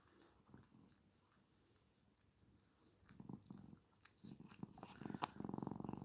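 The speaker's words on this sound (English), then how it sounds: "Listen to that purr, y'all." A cat named Shelly purrs up close, a soft rumbling purr that grows louder and more textured toward the end, with some rustling and chewing-like sounds mixed in.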